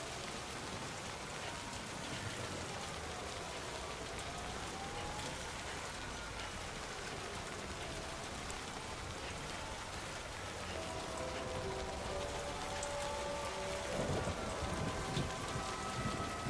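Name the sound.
rain falling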